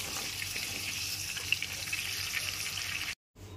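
Pieces of pointed gourd (potol) fry in hot oil in a home kitchen, giving a steady, soft sizzle that runs evenly before cutting off abruptly near the end.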